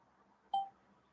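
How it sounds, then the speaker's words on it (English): A single short electronic notification beep for a go-live alert, clear and brief over a quiet background. "I just seen that I got a notification that you're fixing to go live."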